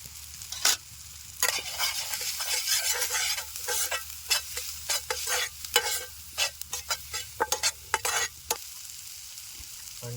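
Onion and tomato fry with turmeric and masala in a pan at a rainy forest campsite, stirred in quick scraping bursts over a soft sizzle, close up, with no talk.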